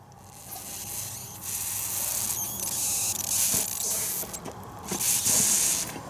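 Air blown into a leaking windshield washer fluid hose coated in soapy water gives bursts of hissing and sputtering, rising and falling over several seconds, close up and fairly soft, without voices.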